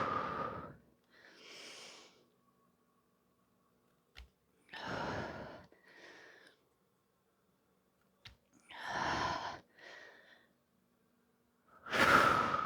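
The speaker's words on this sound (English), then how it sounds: "Breathing deep into that belly." Slow, deep breaths during a yoga handstand drill: four long, audible inhale and exhale cycles, each a loud breathy rush followed by a softer one, near and unhurried with quiet pauses between.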